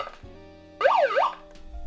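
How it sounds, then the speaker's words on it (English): A megaphone's electronic siren gives one short wailing burst that sweeps quickly up and down in pitch over a steady background hum, brief and close. "I could test it by turning siren on and then touching these together."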